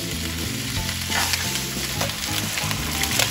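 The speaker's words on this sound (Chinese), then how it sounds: "开始静置干煎" Chicken pieces dry-frying in sesame oil in a pan for three-cup chicken, a steady loud sizzle with crackling pops throughout, no voices.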